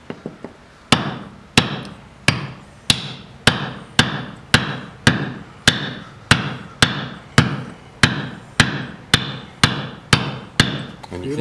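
Mallet blows on a caulking iron roll cotton into a seam of a wooden boat. Sharp, regular knocks come about twice a second, close and loud, each with a short wooden ring.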